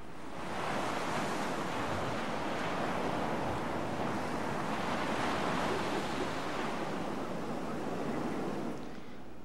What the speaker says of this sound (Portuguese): Dá uma conferida só no som da água